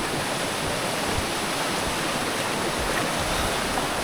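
Rani Chua waterfall in Bargarh, Odisha, swollen after heavy rain, roars with fast-flowing water in a loud, unbroken wash of white noise that stays steady throughout, with no voices.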